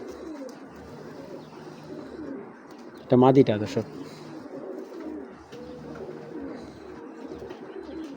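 Breeding pigeons coo softly and repeatedly nearby, with one louder burst of cooing in the middle, while someone talks over them.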